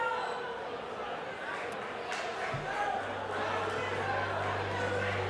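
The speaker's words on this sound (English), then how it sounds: "The crowd are on their feet in Phuket, Thailand." Crowd noise at an MMA event in Phuket, Thailand, a broad steady roar of cheering and chatter at a distance, with a low hum entering partway and a commentator talking over it.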